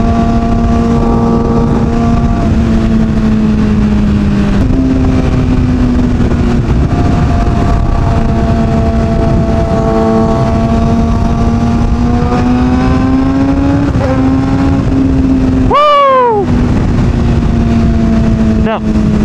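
A Kawasaki ZX6R (ZX636R) sport motorcycle engine rides steadily in traffic, its loud harmonic drone holding fairly even with small rises in pitch, then a sharp rev burst near the end.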